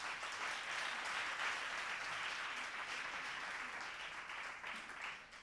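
Audience applause for a jury president at a televised presentation contest, an even, steady spread of clapping from a room of people, moderately distant and fading slightly at the end.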